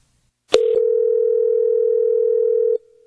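A telephone line after the other party hangs up: a click, then a loud steady dial tone holding for over two seconds before cutting off abruptly.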